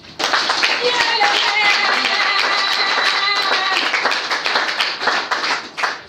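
Audience applause fills a hall at a political declaration, dense steady clapping from many hands close by, with voices mixed in beneath it before it thins out near the end.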